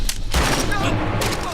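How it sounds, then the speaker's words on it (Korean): Gunfire rings out during a night sentry scene at a military post in a Korean film: several sharp cracks and a booming burst, loud and close, run into a dense rattle that keeps going. "그 총성을 듣고 달려온 박중희"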